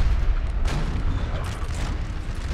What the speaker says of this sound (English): Artillery is opening up, and the howitzers will fire too.